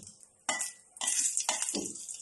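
A sharp sizzle bursts out as something is tipped into a hot pan, followed by repeated scraping stirs and continuing frying hiss.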